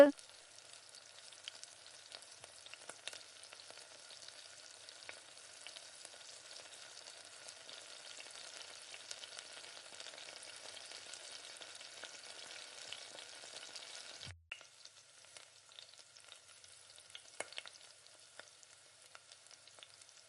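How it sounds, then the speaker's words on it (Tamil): Onions sauté in a pan with coriander leaves, curry leaves and asafoetida for a cowpea kulambu, giving a steady, soft sizzle throughout, with one brief scrape near the end. "இப்போ இது கூட கொத்தமல்லி கருவேப்பிலை இதையும் சேர்த்து நல்லா வதக்கி விடுங்க."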